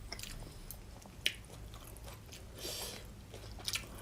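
Chewing and biting while eating chadolbaegi, thin-sliced beef brisket, with soybean paste stew and jjolmyeon nearby; soft close mouth sounds with a couple of sharper crunchy bites, quiet and without talk.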